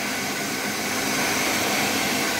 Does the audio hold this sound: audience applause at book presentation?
no